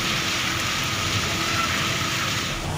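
Heavy rain pours down in Lahore during a storm, a loud, dense, unbroken roar of water with no voices over it.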